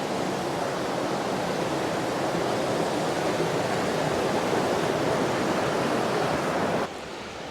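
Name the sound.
Dudhsagar waterfall water rushing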